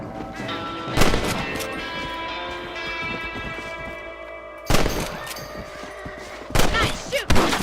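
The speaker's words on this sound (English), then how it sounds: "Nice shooting! You're better at shooting rabbits than outlaws, I see." Rifle shots fired at rabbits in Red Dead Redemption on PC, several sharp loud cracks spaced apart over a steady outdoor game ambience with faint hoofbeats.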